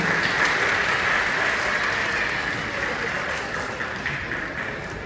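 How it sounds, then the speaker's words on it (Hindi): Audience applause at a magic show in India, a dense, steady wash of clapping that begins loud and slowly thins and softens over about five seconds, with no talking. "एक बार जोरदार तालियां बजा दीजिए आप लोग।"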